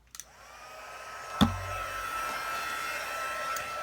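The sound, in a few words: heat tool heat embossing powder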